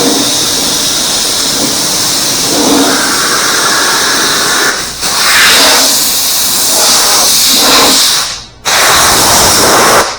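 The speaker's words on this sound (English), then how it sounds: "We'll blow this moisture out with just rubbing alcohol." Compressed air blasting moisture off a car body panel wiped with rubbing alcohol, a loud, close, continuous hiss that drops out briefly twice and then resumes.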